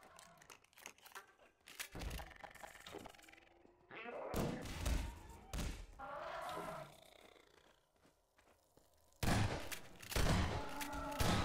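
Shotgun blasts in a first-person video game, several heavy booming shots in separate bursts with loud rumbling tails and quieter gaps between them.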